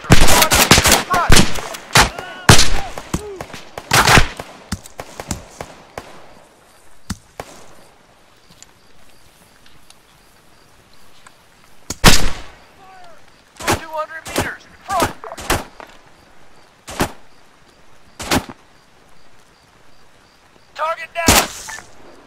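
Arma 3 gunfire in a military battle: sharp single shots and short bursts crack out in clusters with quiet gaps between them. Voices shout briefly in between.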